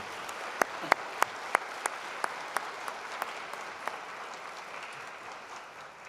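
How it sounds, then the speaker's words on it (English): Audience applause for the MacEwan University Big Band at a fall 2021 university convocation ceremony in the Winspear Centre: steady, moderately distant clapping from a large hall crowd, with sharper individual claps standing out at intervals before it thins and fades. "Let's give them a round of applause for their performances today."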